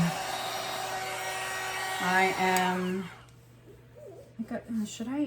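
A hair dryer roars steadily as it blows alcohol inks across resin art, then cuts off, and a person begins talking afterward.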